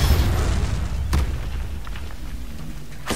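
In Hogwarts Legacy, an Expelliarmus spell strikes rocks with a deep booming impact, followed by rumbling debris and a sharp crack near the end, loud and close.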